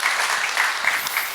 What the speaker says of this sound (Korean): 여러분 박수 한번 해주세요